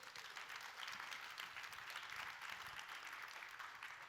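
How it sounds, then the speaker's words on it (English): Steady round of applause from a church service congregation, a dense even wash of clapping held at a constant level throughout, with no voices over it. "That's a good round of applause"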